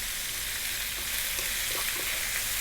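Pork belly with hoisin sauce, salt and black pepper frying on high heat, a dense continuous sizzle with light stirring clicks, steady and close with no voices.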